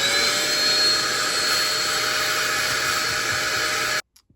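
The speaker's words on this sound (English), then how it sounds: "I'm going to vacuum this out." A vacuum cleaner sucks dust out of an Audi A4 ignition lock, a loud steady whooshing drone running for four seconds before cutting off abruptly.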